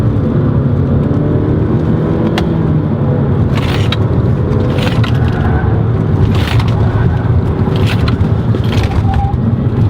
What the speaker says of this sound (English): I want to do a slalom in this.